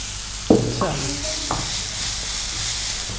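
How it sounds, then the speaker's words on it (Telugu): Fenugreek leaves fry with green chillies in a pan, a continuous sizzle with a few scraping stirs of a spoon near the start, heard close and without talk. "మెంతి కూర వేగిన తర్వాత ఒక మంచి ఫ్లేవర్ వస్తుంది కదా, దట్టు ఇంకా పచ్చిమిర్చితో సహా వేగుతుంటే ఇంకా బాగుంది"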